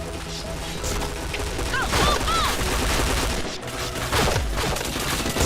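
Rapid bursts of gunfire from a mobile-style shooter game, with sharp cracks and ricocheting metallic tones layered over a dense, busy background, dipping briefly in the middle before the shooting resumes.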